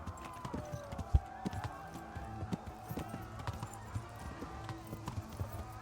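Hooves clip-clopping in a steady rapid rhythm, a galloping horse in Kingdom Come: Deliverance with game ambience and a faint music drone underneath.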